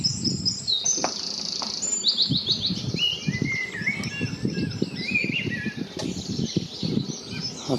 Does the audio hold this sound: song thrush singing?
yes